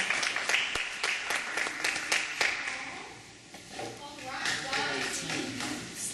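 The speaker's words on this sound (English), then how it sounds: "Let's give our new members a round of applause" Applause for new members at a Sigma Kappa Delta induction ceremony, sharp individual claps in a room at first, then thinning into a smaller, quieter patter with voices talking underneath.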